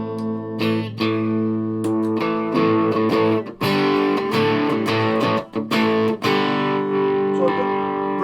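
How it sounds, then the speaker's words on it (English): Yamaha RGX A2 electric guitar on a single-coil bridge pickup with overdrive, a crunchy distorted tone with chords and single notes ringing dry, no echo or reverb tail, alone and fairly loud. "Turn off the reverb, put on some drive."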